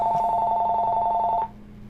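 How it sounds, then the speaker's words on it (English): A telephone rings nearby with a steady electronic warble of rapid pulses that lasts about a second and a half, then stops, leaving a quiet room. "Just ignore that phone, by the way."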